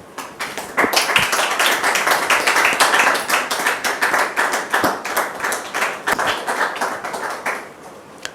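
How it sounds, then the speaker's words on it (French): An audience claps to welcome a guest, a loud, close burst of applause that settles into a fairly rhythmic beat and then tapers off over about eight seconds. "Recevons maintenant Dame Doriane sous vos applaudissements"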